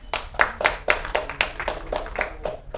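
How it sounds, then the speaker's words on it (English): Audience at a film trailer launch event clapping in a brief, uneven burst of distinct hand claps, fairly close and moderately loud, with no talk over it. "A big round of applause please."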